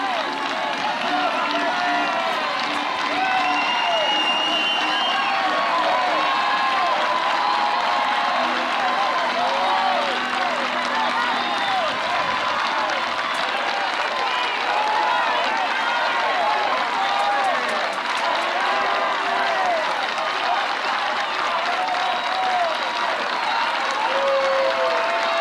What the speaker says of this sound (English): the crowd will come to life a little early here in support of Lexi Kilfoyle